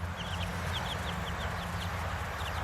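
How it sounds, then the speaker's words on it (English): Chicks and young chickens clucking and peeping inside a barn, a steady chorus of short repeated calls over a low constant rumble of background noise. "Here is our chicks. They're getting so big."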